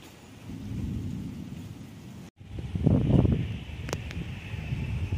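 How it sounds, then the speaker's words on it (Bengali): Thunder rumbles low and heavy through steady rain outdoors on an afternoon. A brief silent gap is followed by a louder, deeper roll of thunder, with the rain continuing around it. "একদিকে মেঘ গোড়গোড়ানির আওয়াজ, আরেকদিকে দমকা বাতাস।"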